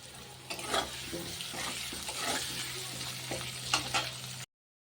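Potato pieces frying in hot oil in a pan after fish, seasoned with salt and turmeric, give a steady close sizzle with soft stirring scrapes and a few louder bursts, without talk.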